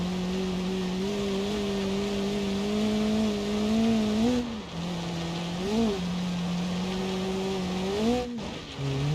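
A rally car races in BeamNG.drive on a course with banked turns, its engine droning steadily, then rising and dipping sharply through gear shifts and corners, loud and close without talking.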